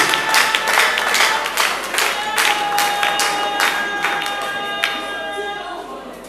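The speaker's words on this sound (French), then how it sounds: "applaudissons pour la Maman Fololo" An audience at the Tokanisa festival applauds Maman Fololo. Many hands clap loudly and steadily, with crowd murmurs and cheering mixed in, while a sustained tone runs underneath.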